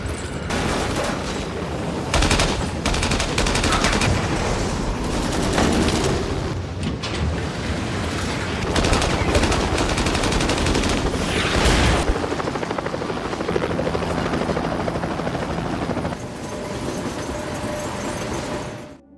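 An action film train fight: helicopter rotor thudding runs throughout under dense bursts of machine-gun fire and sharp impacts, loud and continuous, with no voices.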